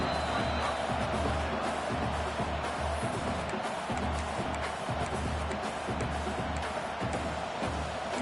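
A stadium crowd cheers in the NCAA 26 college football video game, with a dense, steady roar throughout and a low rhythmic drone beneath it.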